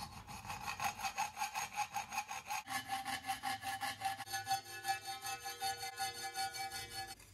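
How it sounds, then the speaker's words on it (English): A hacksaw cuts a thin metal strip in quick, even back-and-forth strokes, a harsh rasping rhythm that holds steady with a brief pause partway, close and alone, in a workshop making an engine casing part for a Kawasaki motorcycle. "it's slightly harder to use the hacksaw, but with practice, you can still cut a straight line."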